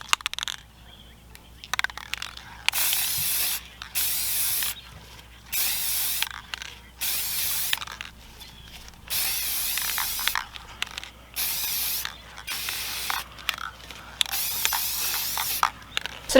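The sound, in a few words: spraying sealant over a glitter tumbler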